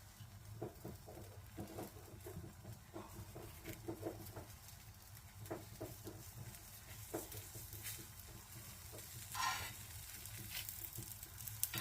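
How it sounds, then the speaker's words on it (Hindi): Ghee sizzles around a paratha frying on a hot griddle, a faint, continuous crackling patter close by with a brief louder hiss partway through. "अभी मैं इस पे यहाँ घी डालूंगी"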